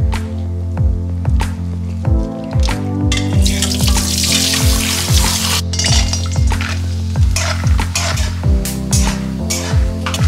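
Shredded potatoes for jhuro aloo bhaja fry in hot oil in a pan, a dense close sizzle broken by regular rhythmic stirring knocks and a few louder bursts of spitting.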